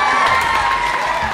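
A crowd cheers and applauds a winning team, a loud, dense wash of voices and claps lasting about a second and a half.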